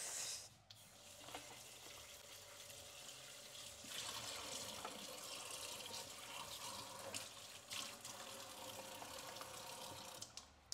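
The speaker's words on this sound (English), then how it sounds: "So before I eat any fruit, I like to wash them." Fruit washed under a steadily running kitchen tap, a continuous close rush of water with small splashes and shifts as the fruit is turned under the stream.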